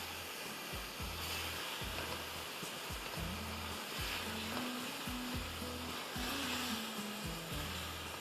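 Tomato puree for Banarasi pulao sizzles and fries in a pan with a steady, dense hiss throughout, and a low hum runs underneath.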